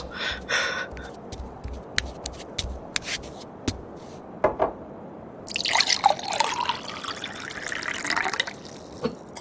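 Water drips from a tap in a series of sharp, separate drops, then a louder stretch of running, splashing water follows near the end. No voices.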